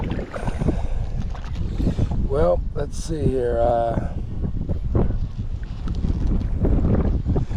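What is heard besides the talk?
strong wind outdoors by the water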